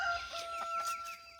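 Chickens cluck and squawk close by in a short, busy burst of several overlapping calls.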